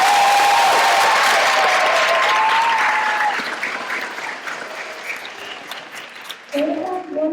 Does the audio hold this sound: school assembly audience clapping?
yes